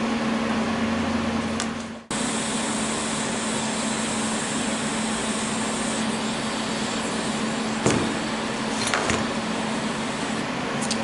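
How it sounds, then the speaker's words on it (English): Pieces of a metal Allosaurus kit are welded together, giving a continuous close buzzing hiss with a low hum beneath it. The arc cuts out briefly near the start, then runs on steadily. "you can go ahead and weld either side together"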